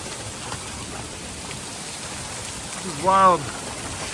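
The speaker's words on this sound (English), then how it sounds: "Man, it is storming so hard up here. It's hailing." Heavy rain with hail during a Colorado storm, a dense, steady close hiss throughout, and someone briefly speaks near the end.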